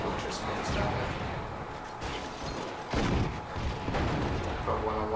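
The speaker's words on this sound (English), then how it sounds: "I thought I'd just waste the majority of my remaining grenade launcher bullets" Grenade launcher fire and explosions in a Halo Reach 2v2 match, with repeated heavy booms and blasts in a dense, loud battle mix, and voices talking over the gunfire.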